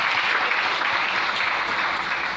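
Worshippers in a church clapping together to acclaim the Lord, producing continuous loud, dense applause from many hands with no break.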